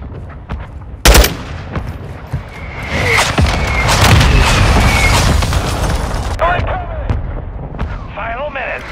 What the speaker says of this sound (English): Hostile mortar strike near your position.